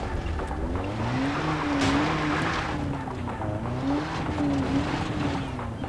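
In Far Cry 3, a car drives over rough ground, stepped terrain included, its engine droning steadily with rising and falling pitch, close and loud, amid rumbling and jolting noise and no talking.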